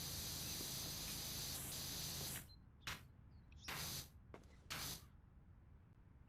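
A pressure washer sprays in the PowerWash Simulator video game, first a steady hiss, then three short bursts broken by quiet gaps.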